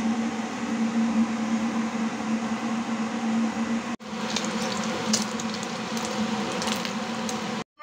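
Galunggong fish (round scad) fries in a pan with a steady, close sizzle and crackle that runs throughout, with a brief cut midway and a few sharper pops afterward.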